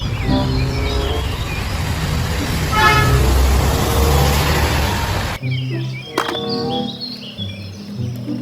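A toy double-decker bus sounds its horn in a few short toots over a steady loud mechanical whir, followed by quieter clicks and handling noises.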